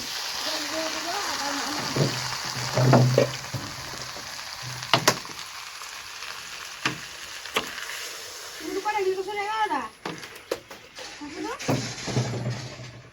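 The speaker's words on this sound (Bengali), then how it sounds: "আমাদের মাংস কষানো হয়ে গেছে, এখন আমরা একটু জল দিয়ে দেব।" Water is poured into a pan of sautéed desi rooster meat during kosha mangsho cooking, giving a loud hiss and burst of sizzling, then bubbling and intermittent stirring clatter nearby.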